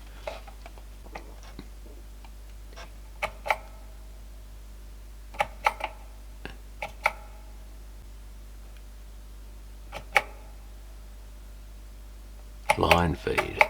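Keys clatter on a modified US-version Sinclair ZX81 computer keyboard in scattered, sparse taps, some doubled, separated by quiet pauses, and ending in a brief burst of busier clicking.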